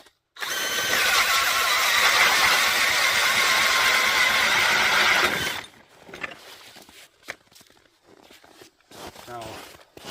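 A DeWalt DC997B 20-volt brushless hammer drill driving a 6-inch K-Drill ice auger through clear ice about 3.5 inches thick, whirring loud and steady for about five seconds before cutting off, leaving quiet outdoor shuffling.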